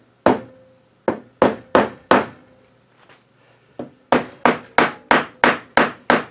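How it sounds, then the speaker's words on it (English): Mallet striking a cherry wood frame joint to drive it together: three sharp knocks, a pause with faint taps, then a rapid run of about eight solid, close hits. "it's back to hitting it with a mallet"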